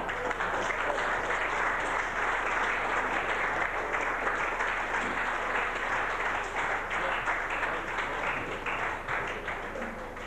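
Steady audience applause fills the room at a 1981 Mick Scanlon Cup presentation for a Galbally hurling player, a dense continuous clatter of many hands holding level throughout.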